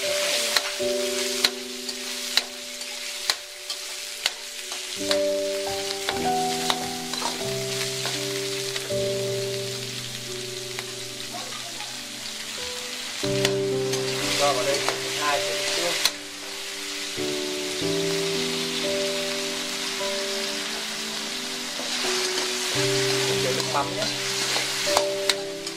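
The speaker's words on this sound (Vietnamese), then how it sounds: "bây giờ mình sẽ đi xào phần thịt ba chỉ nhé" Pork belly stir-fried in a pan, giving a steady sizzle and frying crackle that runs continuously beneath melodic background music, with no talking.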